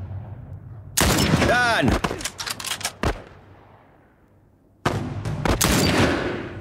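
Gunfire in the video game The Last of Us Remastered: loud bursts of close shots and rapid fire come in two clusters separated by a quieter gap, with a sharp descending whine between shots and a voice speaking briefly.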